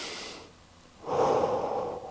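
Two deep, close breaths during a stretching routine for golfers with back pain: a soft airy breath, a short pause, then a longer, louder rushing breath, with no talking.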